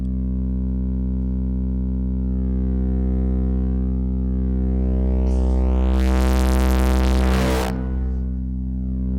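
A sustained synthesizer tone from a Synthstrom Deluge with a washy reverb tail, its pitch gliding slowly as the filter cutoff changes; a burst of bright noise sweeps through near the end.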